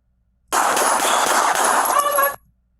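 A dense, loud burst of rapid gunfire from police officers, nearly two seconds of overlapping shots that cut off sharply, captured on a bodycam.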